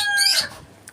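A chicken gives a short, loud squawking cluck close by, dropping away to quiet.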